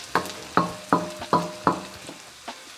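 Deseeded chili peppers being sautéed for Bicol Express, with five or six sharp, evenly spaced scraping stirs in a pan over a low sizzle, close and clear with no talking.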